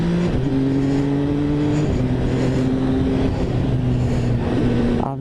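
A Dragster 800 motorcycle with the F3 800 engine roars loudly and steadily up close, its engine note holding a strong drone and then dropping in pitch in a shift before rising again.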